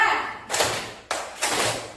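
An elementary school class claps a rhythm together, two broad bursts of group clapping about half a second apart, each a dense wash of many hands ringing out briefly, moderately loud in a classroom.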